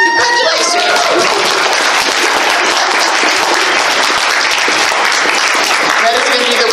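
A conference audience applauds loudly and steadily in a hall, dense clapping from many hands filling the whole stretch, with a few voices calling out briefly near the start and end.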